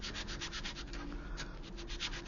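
A 400 grit sanding sponge rubs over the superstructure of a 1/200 scale model of the USS Curtis Wilbur, making a steady, close, soft scraping with a quick back-and-forth rhythm and no talk.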